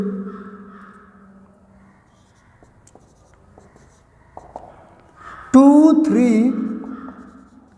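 Chalk or marker taps and scratches on a classroom board come as faint, sparse strokes, followed by someone speaking Hindi over the writing sounds.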